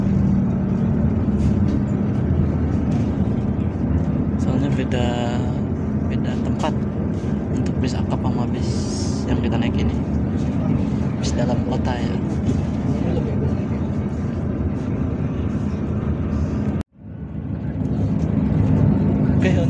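Steady engine rumble and road noise fill the cabin of a moving bus in Surabaya, continuous and loud, with voices talking over it and a brief dropout near the end.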